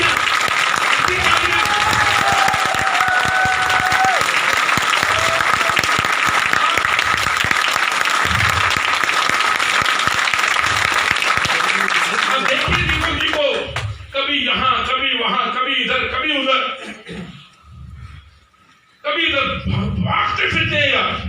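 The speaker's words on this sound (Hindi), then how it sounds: "इतनी तालियां मारो दीपक जी के लिए" Audience applause for Deepak ji at a residential training program in Mussoorie, a long, loud, dense burst of clapping with some cheering that breaks up into scattered claps and fades near the end.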